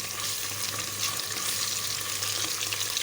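Crushed garlic and ginger fry along with onions in a hot pan, giving a close, steady sizzle and crackle with faint stirring and no voices.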